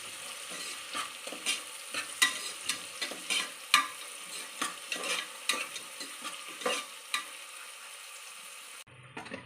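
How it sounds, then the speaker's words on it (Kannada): Onions fry on a low flame while a spoon stirs them, giving repeated close scraping strokes in a steady rhythm over a soft continuous sizzle, with no voices. "ಈರುಳ್ಳಿ ಚೆನ್ನಾಗಿ ಬ್ರೌನಿಶ್ ಆಗಿ ಫ್ರೈ ಆಗಬೇಕು ಲೋ ಫ್ಲೇಮಲ್ಲೇ ಇದನ್ನೆಲ್ಲ ಫ್ರೈ ಮಾಡ್ಕೋಬೇಕು"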